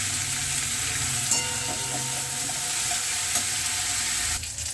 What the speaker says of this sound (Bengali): দিয়ে আমি হালকাভাবে এটা একটু লাল করে ভেজে নেব।